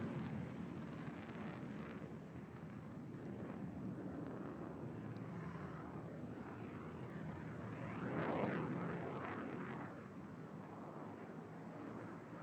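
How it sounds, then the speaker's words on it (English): A Pakistan Air Force JF-17 Thunder jet flies a display at the Bahrain International Air Show, its engine a distant broadband roar mixed with wind buffeting that swells briefly midway and then fades back to a steady rumble. "the aircraft appearing on your right is setting himself for a daring double aileron roll, showcasing the agility of the Thunder"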